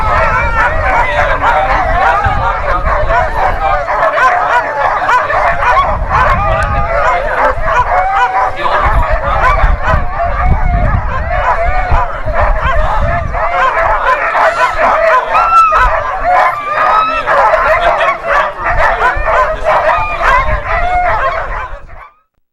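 Pack of sled dogs barking and yipping continuously and loudly, a dense overlapping chorus of many dogs close by, with some whimpering, lasting throughout before cutting off abruptly.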